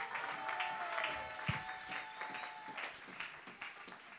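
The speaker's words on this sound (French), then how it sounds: "Est-ce que quelqu'un peut acclamer très bien?" A church congregation at the closing of a Bible seminar applauds and cheers in a continuous wash of clapping and crowd noise that sounds somewhat distant, with a few louder claps standing out.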